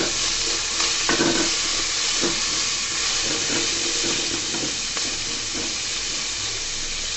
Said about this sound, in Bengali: অল্প একটু ভাজি করে নিব, বেশি ভাজবো না।